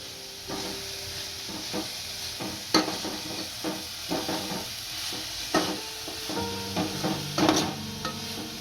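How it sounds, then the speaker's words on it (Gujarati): Cabbage, capsicum, carrot and spring onion frying in a pan, with a spatula stirring and tapping irregularly over a soft steady sizzle, close by and without talk. "હવે લીલી ડુંગળીના પાન નાખીશું અને હલાવી નાખીશું"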